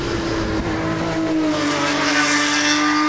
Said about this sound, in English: What a noise that car makes.